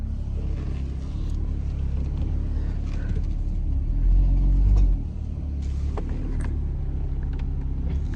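An off-road vehicle crawls over rocks on a slick rock trail with a steady low engine rumble and a brief louder surge midway, plus scattered knocks and scrapes, close and continuous with no talking.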